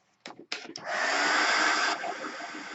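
A hair dryer is blowing on a mixed media artwork, starting with a couple of short bursts and then running as a steady, loud, close whoosh before easing slightly lower.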